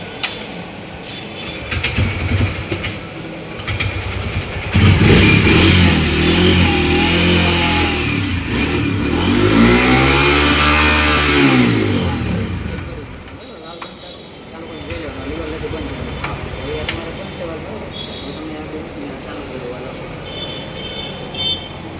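A Bajaj Freedom motorcycle engine started and revved to purge gas, a loud rising and falling drone with a strong swell in the middle before settling to a quieter idle, close by, with people talking at times.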